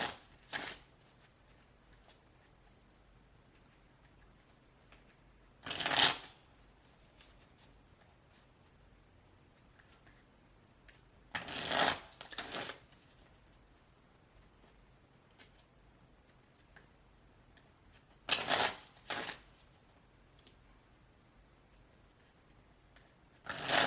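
Tarot cards are shuffled by hand in short bursts, with four separate rounds of close, crisp riffling spaced by quiet pauses.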